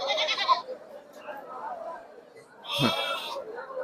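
At the Chikkanayakanahalli sheep market, goats give two bleats, a short one at the start and a louder, rougher one later, over the steady chatter of traders speaking nearby.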